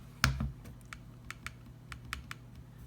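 Apple trackpad button clicking after its feet were replaced: one sharp, louder click followed by a series of lighter, evenly spaced clicks, close and quiet with no voices.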